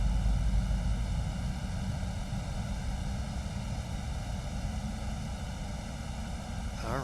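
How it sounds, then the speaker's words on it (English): A jet airliner engine spools up in a flight simulator on a Toronto to Miami flight, giving a loud, steady whine with layered tonal hum and rumble that holds level throughout, with no talking. "I don't know if you can hear that engine spooling."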